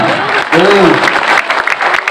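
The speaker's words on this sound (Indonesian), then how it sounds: "Tepuk tangannya." Clapping rises from an audience at a school extracurricular scout display in Cirebon, a brief burst of dense applause with a voice speaking over it.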